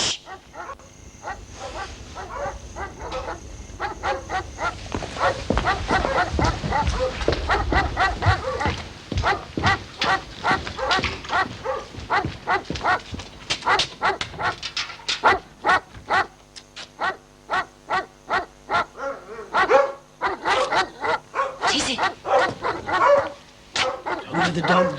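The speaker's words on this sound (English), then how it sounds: "The dog's barking." Dog barks repeatedly in sharp, loud bursts, with yips and whimpers between them. The barking comes in an uneven, insistent rhythm over a long stretch, and voices can be heard faintly at times.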